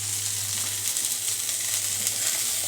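Tengra fish curry with potatoes and amaranth stalks frying in a pan, a steady close sizzle with faint stirring scrapes, no voices.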